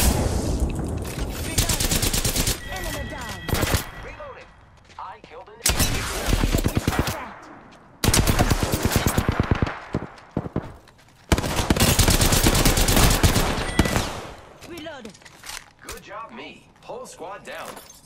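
Bursts of automatic gunfire in Apex Legends come in several loud, dense volleys separated by brief pauses, while a voice talks between and over the shooting.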